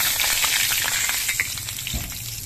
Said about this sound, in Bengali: তো তার জন্য আমি এই তেলের মধ্যে দিয়ে দিচ্ছি দুটো তেজপাতা